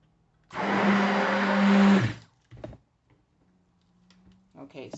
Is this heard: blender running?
yes